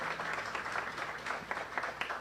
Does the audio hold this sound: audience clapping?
yes